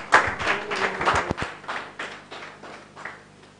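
Scattered hand clapping from a small audience at a startup demo day bursts out, then thins and fades over a few seconds.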